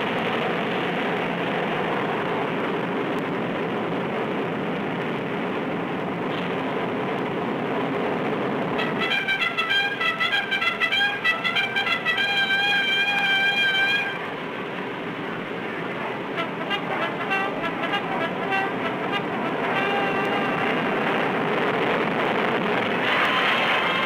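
A 100-ton flying wing aircraft roars steadily through takeoff, a loud continuous engine drone with a pulsing tonal whine rising in the middle. No voices are heard.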